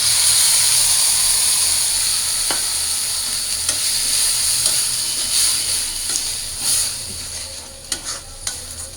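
Onions frying in oil with spices, ground onion, garlic, chili, turmeric and salt for a dried fish bhuna, giving a steady loud sizzle with occasional stirring scrapes and clicks.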